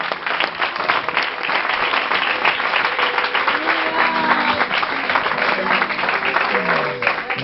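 Applause from a church congregation during an evangelical worship service, a steady wash of clapping and crowd noise filling the whole stretch, with voices and cheering mixed in.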